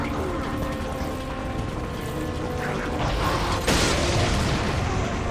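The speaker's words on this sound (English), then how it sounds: "Thank you, explosion." An explosion in Resident Evil 4 during the battleship sequence, a sudden broadband boom about two thirds through that rises over a steady mechanical, creaking game background with no talking.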